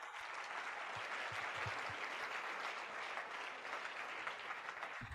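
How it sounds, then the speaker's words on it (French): A church conference congregation in Chicago applauds steadily for several seconds, a dense, fairly faint wash of clapping with a few deeper thumps, no speech over it. "Applaudissez encore pour elle"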